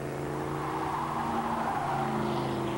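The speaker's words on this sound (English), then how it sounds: "DeBico using up a little more racetrack there, trying to keep that Porsche behind him" Camaro and Porsche race cars at Mont Tremblant in 1993, engines roaring loud and close as they battle through a corner, a continuous strained drone with shifting pitch and no voices.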